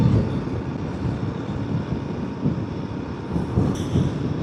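A Delhi metro train rumbles steadily through a station, a broad continuous roar of wheels and motors with a brief higher squeal near the end.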